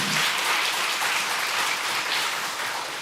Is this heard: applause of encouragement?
yes